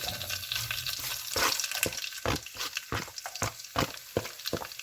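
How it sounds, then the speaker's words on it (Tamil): Garlic and curry leaves crackle in hot oil for a mutton pepper sothi, with a rhythmic series of sharp scraping strokes from a spoon stirring them, close up. "கருவேப்பிள்ளையும் வெள்ளைப்பூடையும் வந்து நல்லா வதக்கி எடுத்துக்கொள்வோம்"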